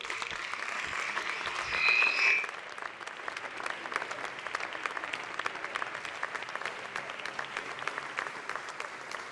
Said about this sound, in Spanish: yo quiero que le deis un aplauso muy fuerte